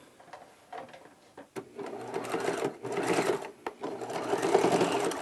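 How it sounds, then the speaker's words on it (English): A sewing machine top-stitches a straight seam through thick drawstring backpack fabric, opening with a couple of short stuttering bursts before settling into a steady, close-up run. "I'm going to sew a straight stitch using this as my guide, top stitching on this material"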